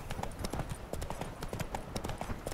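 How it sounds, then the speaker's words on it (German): Horse hooves clip-clop at a steady trotting rhythm while riding in The Witcher 3, sharp repeated knocks close and prominent over a dense game soundscape. "Wir reiten mal dran vorbei."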